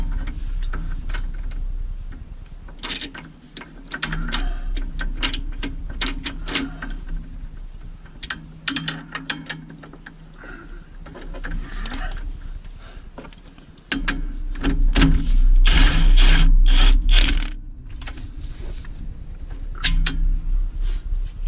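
A ratchet wrench clicks in short bursts as bolts on a Jeep Wrangler JK front track bar brace are snugged up, with metallic ticks, pauses and shuffling handling noise at close range.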